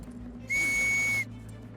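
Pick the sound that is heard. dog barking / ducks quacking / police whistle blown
police whistle blown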